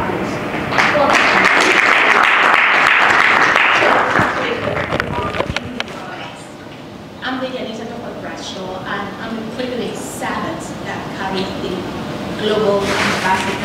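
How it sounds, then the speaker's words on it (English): Audience at a philanthropy world summit claps loudly for a few seconds, then the applause fades as a speaker begins talking over the room. "Let's give a round of applause."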